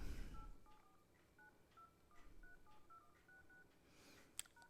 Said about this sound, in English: after dialing this code, you have to call this code for once